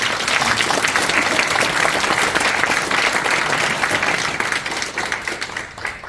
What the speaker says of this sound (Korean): 여러분 뜨거운 박수 한번